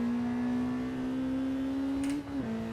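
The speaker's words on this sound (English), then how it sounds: "It actually sounds like it's revving very hard." A racing car engine in a VR sim racing game on Oculus Quest 2 drones at high, steady revs, then briefly dips and shifts before holding again, with a synthetic game-like tone.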